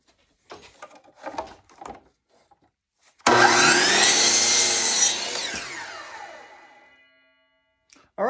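A power saw cuts wood sidewalls for an arcade cabinet riser: a loud, sustained whining cut of about four seconds that tapers as the blade spins down, preceded by brief rustling and handling sounds.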